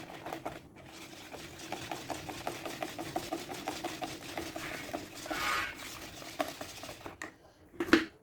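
Two eggs being stirred into a bread leche flan mixture in a bowl, a quiet, steady run of soft scraping and tapping strokes with a faint clink near the end.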